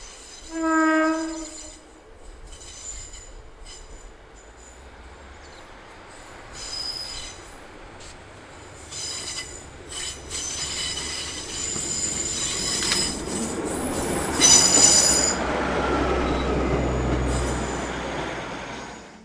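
A Class 156 diesel train on the Mallaig line in the Scottish Highlands, with a brief horn blast and then wheels squealing and rumbling as it draws nearer and passes loudly, no voices.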